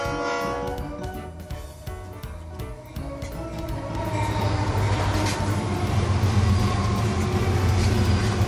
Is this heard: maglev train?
yes